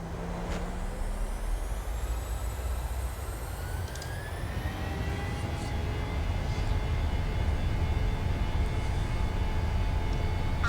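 Steady jet engine roar of an airliner during takeoff in a flight simulator game, a constant broadband drone with rising tonal whine, loud and continuous throughout with no talking.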